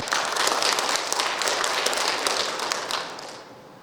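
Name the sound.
applause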